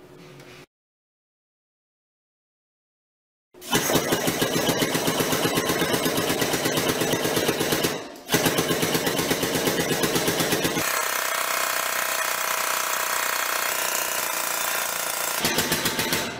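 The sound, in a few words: tube bender bending 1¾-inch quarter wall DOM tubing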